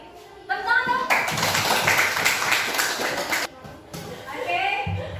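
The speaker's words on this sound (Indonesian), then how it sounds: "tepuk tangan dong" Children clapping their hands in a classroom during a coding and artificial intelligence lesson, a loud burst of clapping lasting a couple of seconds, with children's voices and a teacher talking before and after.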